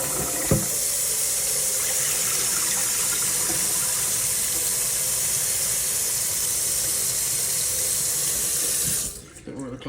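Short grain sushi rice being washed under a running tap, a steady close rush of water into the bowl for nearly the whole stretch, with one brief clatter near the start and the flow cutting off at the end.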